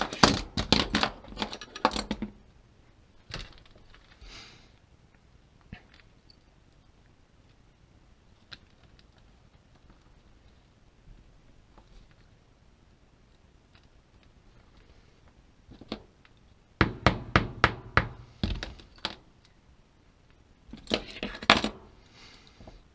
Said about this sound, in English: what I've just done, I've just pushed the little tab out